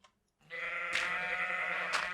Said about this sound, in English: Oh, it's a sheep horn.